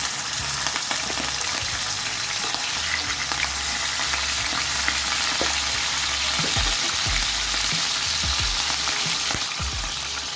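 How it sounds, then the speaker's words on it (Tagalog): Fish fries in a hot pan with a steady, dense sizzle, along with occasional soft pops and stirring bumps. It is close, with no talking. "Prito ng isda."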